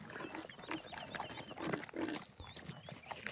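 Pigs in a Farming Simulator 19 barn grunt and oink repeatedly, several animals overlapping in a steady busy chorus at close range, with no talk over them.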